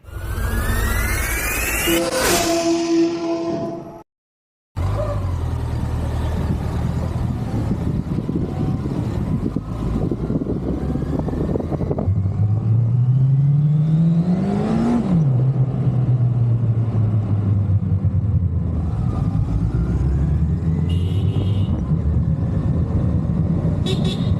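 Motorbike ride recorded on a helmet or body mount, with a steady loud engine drone and wind rush throughout, rising and falling revs, a brief dropout early on and a distant horn toot.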